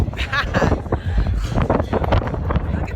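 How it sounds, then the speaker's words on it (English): Strong wind on a boat at sea roars and buffets the microphone in loud, continuous gusts, with voices shouting faintly underneath. "It's fucking windy"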